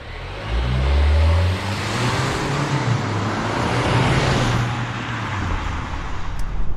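A 2022 Volvo XC40 T5 AWD Inscription drives off, its engine rising in a low revving pull early on, then settling into a steady road and tyre roar that carries through to the end, with no talking.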